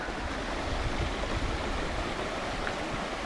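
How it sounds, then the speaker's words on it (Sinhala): Small forest waterfall at Garadi Ella in Kalugala, a steady close rush of falling water with no pauses or voices. "ටිකක් පොඩි ඇල්ලක්."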